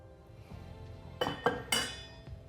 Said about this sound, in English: We're gonna find our paddle that we had previously. Give that a stir.